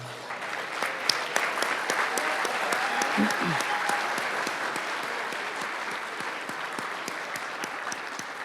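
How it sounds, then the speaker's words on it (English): Steady applause from an audience at a university athletics hall of fame ceremony as coaches stand, a dense, even wash of clapping throughout with faint voices briefly underneath. "please stand so we can applaud you as well"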